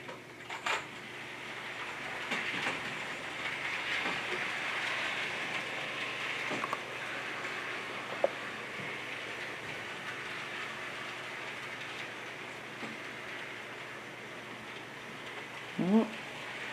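An HO scale model train runs along its track with a soft continuous rumble and faint clicking, joined by occasional thumps and a brief higher squeak near the end, all fairly quiet.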